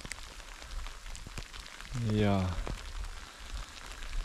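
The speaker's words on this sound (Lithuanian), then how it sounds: "Matot, kaip smagiai lyja." Rain falls steadily in a forest on a wet, muddy trek, a soft continuous patter with scattered drops close by; someone speaks briefly in the middle.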